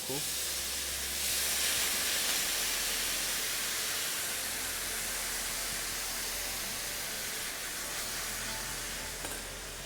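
A steady, loud sizzling hiss fills the clip as dry white wine hits rice sticking to a hot pan for risotto, continuing evenly with a low hum beneath.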